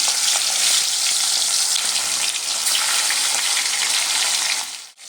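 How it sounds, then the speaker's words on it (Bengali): Hilsa fish frying in hot mustard oil in a wok gives a loud, close, continuous hissing sizzle with crackling, which dips briefly near the end. "এবার তেল গরম হয়ে গেছে, মাছগুলো আমি ভেজে নেব।"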